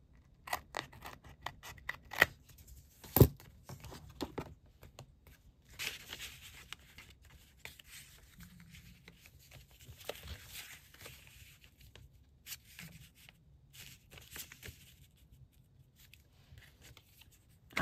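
Scissors cutting out a paper envelope, with repeated crisp snips and blade clicks mixed with paper rustling, close and irregular throughout, and no talking.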